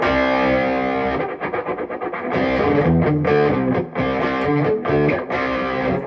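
Distorted electric guitar strums and chords with a shimmering, swirling chorus effect, loud and sustained, with no talking.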